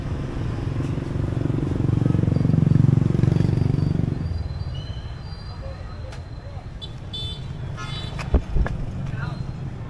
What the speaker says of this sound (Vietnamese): hàng nghìn cái xe máy của những người xách hàng bây giờ bắt đầu họ mới bên Trung Quốc họ về